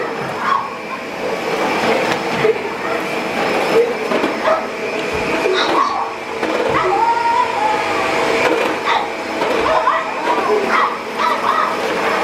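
A dog barks, yips and whimpers in repeated bursts at a running vacuum cleaner it wants to attack, with the machine's continuous whooshing drone underneath and some faint voices.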